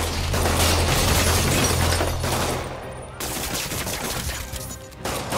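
Gunfire aimed at Spider-Man in the video game Marvel's Spider-Man: a dense, loud burst of rapid shots under a low mechanical hum, a brief lull, then more bursts resuming near the end.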